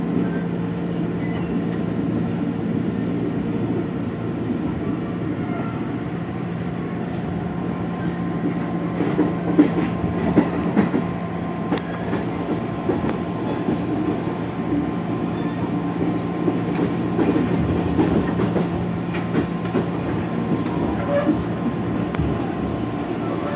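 An electric commuter train runs on rails on an Indonesian line, a loud, steady rumble and hum of the car in motion with faint rail clatter, continuous throughout with little or no talk.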